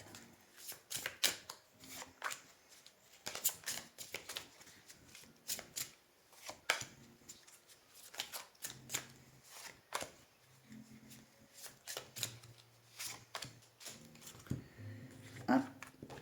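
Tarot cards are shuffled by hand in repeated soft riffling bursts and taps, close and fairly quiet, with occasional brief voice murmurs between the shuffles.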